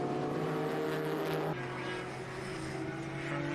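A Nissan 200SX improved production race car roars past on a circuit, heading into turn one. Its steady, loud engine drone drops in pitch partway through as it goes by.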